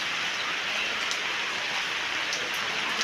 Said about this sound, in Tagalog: At yan po na ulan na nga po ngayon.